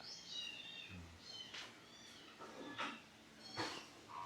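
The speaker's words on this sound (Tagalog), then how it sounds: "May mga pusa pa. Oo, may mga pusa." A cat meows several times in short, fairly quiet cries spaced a second or so apart, with no talking.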